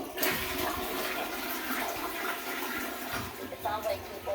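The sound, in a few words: toilet being flushed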